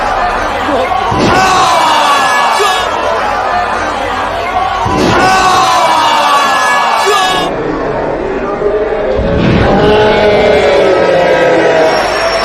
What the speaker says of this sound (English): The crowd is going fucking nuts